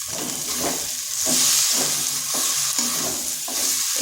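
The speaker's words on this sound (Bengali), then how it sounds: "এরপরে এগুলো ভালো করে মিশিয়ে নিচ্ছি।" Cabbage, potato, coriander and fried peanuts are stirred in a hot pan, with a steady sizzle and rhythmic scraping strokes roughly every half second, close up and with no speech.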